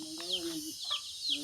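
Chickens on a rural farm in the Philippines, a few short clucks and calls close by, repeated in a loose rhythm with quiet pauses between them, no talking.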